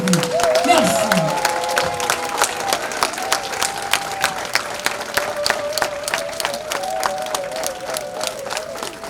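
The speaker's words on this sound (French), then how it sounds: "je demande à l'assistant de se mettre debout pour applaudir chaleureusement" A standing audience at a gala dinner claps warmly and steadily, with a sustained, hall-filling applause that runs the whole time while someone speaks over it.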